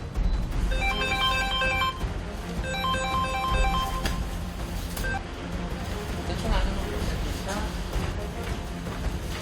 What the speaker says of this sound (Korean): 다급한 신고 전화가 들어왔는데요.